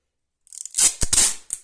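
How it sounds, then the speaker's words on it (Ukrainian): Adhesive tape ripped from a roll while packing a bag, giving a close, sharp run of crackling tears in two main bursts followed by a short final rip. "Беру скотч"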